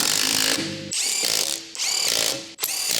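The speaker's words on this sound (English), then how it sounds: "Using the large 19mm long socket with the electric impact wrench," An electric impact wrench with a large 19mm long socket tightens lug nuts on a Honda CR-V, giving loud repeated bursts of hammering rattle separated by short gaps, with no talk.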